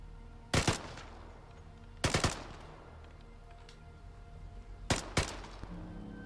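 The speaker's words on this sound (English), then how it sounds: "that Thompson definitely has a little bit of recoil to it" Thompson submachine gun fired at a shooting range in the video game Vigor: three separate short bursts of two or three sharp, loud shots each, with quiet background between bursts.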